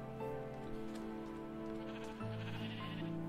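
Sheep bleating in the Minecraft video game, a steady layered bleat tone running through the whole stretch with a soft patter of rain beneath and no talk.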